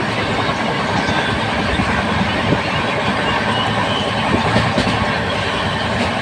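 A train runs at high speed through south India, giving a loud, continuous rumble with faint clickety-clack and occasional metallic squeals, heard from inside.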